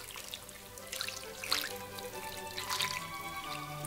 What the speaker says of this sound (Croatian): Prelivam preko krompira.